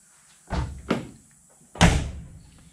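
A Chevrolet C10 pickup truck door being shut, heard as two quick thuds followed by a firmer, louder slam with a short rattling decay, close by and without talking.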